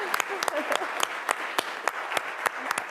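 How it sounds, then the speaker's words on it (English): Audience applause in a plenary session hall, a steady wash of clapping with a few sharp, distinct claps popping out at regular intervals over about three seconds. "Dr. Saxena's someone else who deserves a round of applause"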